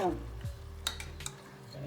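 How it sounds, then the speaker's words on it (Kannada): Masala frying in the tempering for mutton sambar, a soft steady sizzle with a few stirring scrapes and faint clinks of utensils, close by with no talking. "ಇದು ಒಗ್ಗರಣೆಲೆಲ್ಲ ಬಿಟ್ಟಾದ್ಮೇಲೆ ಮಸಾಲೆ ಹುರಿಯೋದು."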